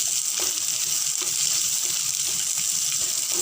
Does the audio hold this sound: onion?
yes